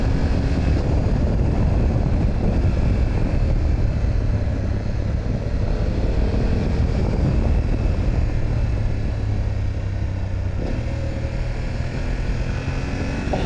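A BMW F900GS motorcycle pulls away in first gear, its engine drone steady and close, with a constant broadband rumble, likely wind, running through the whole stretch.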